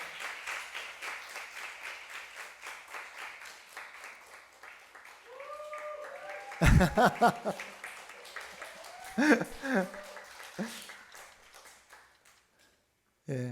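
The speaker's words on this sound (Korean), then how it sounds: "결혼 앞두고 있는데 우리 좀 박수로 좀 앞으로 모실까요?" A church congregation claps to welcome an engaged couple forward during a Sunday service, with steady applause at first, then scattered claps, bumps and some laughter as voices talk.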